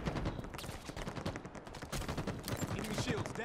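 Dense rapid gunfire from a capture-the-flag video game fills the scene, with overlapping bursts and shots crackling continuously at close range throughout.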